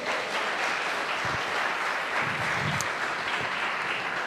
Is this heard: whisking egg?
no